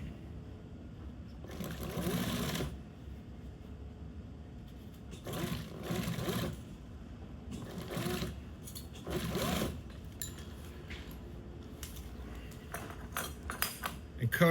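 A sewing machine stitches webbing onto Tempotest marine canvas binding in several short, close bursts of whirring needle chatter, separated by quiet pauses with light handling noises.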